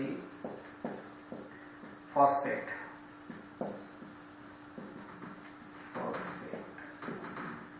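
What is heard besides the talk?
writing on a board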